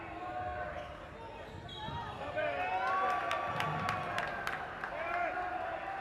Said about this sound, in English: The crowd has gone wild here.